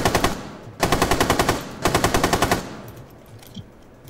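Automatic gunfire from the video game Rainbow Six Siege rattles out in three rapid bursts of evenly spaced shots, loud and close, before it drops to quiet background noise.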